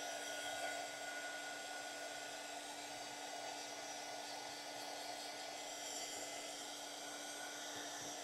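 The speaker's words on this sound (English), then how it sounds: "I'm going to bring in the heat tool and dry this." An embossing heat gun drying a craft project, a steady whirring fan hum with a fixed tonal whine, constant and fairly quiet throughout with no talking.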